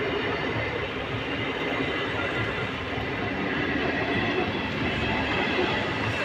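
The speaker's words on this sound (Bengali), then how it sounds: "এই যে ট্রেন ঢুকছে এখন" A train pulls in at a railway crossing with a lowered rail gate on a sunny day, its loud, steady rumble and wheel clatter filling the whole stretch without pause, close by and with no talking.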